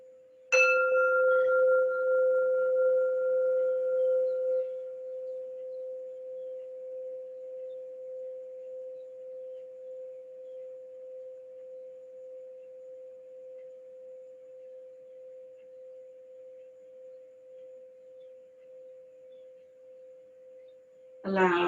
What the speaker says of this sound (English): Allow these tones just to dissolve the disharmonious feelings within the body.